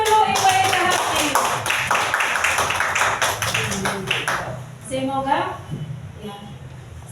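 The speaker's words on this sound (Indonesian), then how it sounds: "kita berikan tepuk tangan dulu Ibu Elita Hati" An audience claps for Ibu Elita after her presentation on positive classroom culture, several seconds of brisk clapping that fades as a voice begins speaking.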